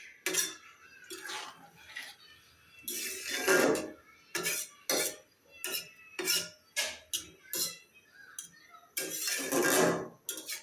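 Small fish curry being mixed by hand-stirring in a pot, a run of irregular loud metallic scrapes and clatters of spoon against the vessel, close and alone.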